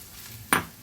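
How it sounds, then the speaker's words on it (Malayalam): Finely chopped onions, two large ones, tip into a pan of chicken gravy for puttu biriyani, a sudden loud sizzling burst that fades over a fraction of a second after a quiet kitchen hum. "നമ്മുടെ ചിക്കന് ഗ്രേവിക്ക് ആവശ്യമായ സവാള ചേർക്കുകയാണ്."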